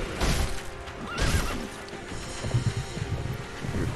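A horse neighs loudly in the video game Sekiro: Shadows Die Twice, a rising whinny over a busy backdrop of game sound, with snorts and stamping following close behind.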